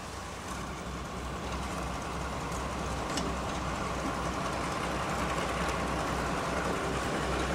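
A heavy British Rail Warship class diesel hydraulic locomotive engine drones steadily with a dense mechanical rumble and rattle, loud and continuous, no voices.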